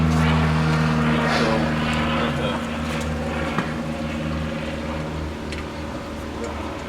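A supercharged dragster engine, its blower driven hard, runs at a steady loud idle in a garage, a thick continuous droning rumble that holds evenly throughout.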